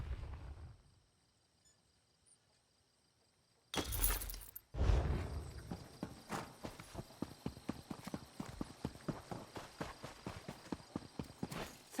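After near silence and a sudden loud crash, a horse's hooves clip-clop rapidly and evenly close up, the beat growing more insistent toward the end.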